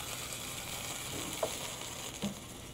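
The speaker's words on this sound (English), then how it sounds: "the LNG is boiling off because the temperature of the water was a lot warmer than the liquefying temperature" Liquefied natural gas poured onto water boils off with a soft, steady fizzing hiss like frying, faint and continuous, with a couple of small pops.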